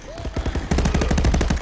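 Automatic gunfire in the VR shooter Contractors: a rapid burst of close, loud shots, a brief gap, then a denser, sustained volley that runs to the end.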